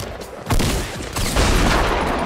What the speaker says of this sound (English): I got shot by multiple people right there, okay.